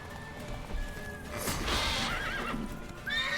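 A horse in Witcher 3 gives a clear whinny midway, set against clip-clopping hooves and game ambience at moderate level.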